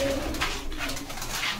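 A pigeon coos softly and close by in a short, low, throaty phrase, with no voices over it.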